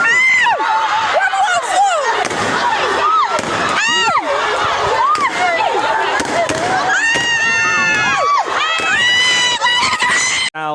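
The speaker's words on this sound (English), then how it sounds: "here are excerpts of the police attempting to disperse the crowd" Large crowd of senior high school students at an Islamic school protest being dispersed by police, with loud continuous shouting, cheering and screams filling the whole stretch, punctuated by sharp bangs like fireworks or firecrackers.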